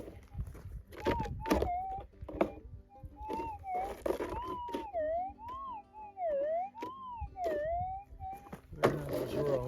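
A Minelab GPX 6000 metal detector gives a warbling, wavering target tone that rises and falls several times, clear at moderate level over outdoor background noise, rustling and a few sharp knocks.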